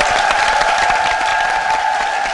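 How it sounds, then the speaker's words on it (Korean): A TV game show studio audience claps in a dense, even burst of applause that fills the short moment without a break. "박수 한번 해주시기 바랍니다"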